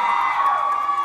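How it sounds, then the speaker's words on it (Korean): A concert audience at a K-pop tour show in Denver cheers loudly, a brief, sustained high-pitched roar of many voices with shrill whoops, close and unbroken for about a second. "You guys still cheer us on very loudly"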